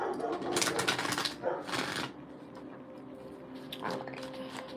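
Tarot cards being riffled and shuffled in two quick bursts, close up, with a brief spoken remark and faint background noise.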